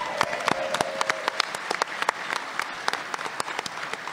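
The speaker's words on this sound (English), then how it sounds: "Can we just get a quick round of applause for Joe for the finale?" A panel audience at a fan convention breaks into a quick round of applause, dense overlapping claps filling the room at steady volume from start to finish, with no talk over it.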